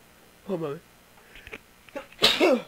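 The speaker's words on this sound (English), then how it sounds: "Oh, that was a sneeze." A character sneezes in World of Warcraft, one sharp, loud burst near the end after a short spoken exclamation and a few quieter vocal sounds.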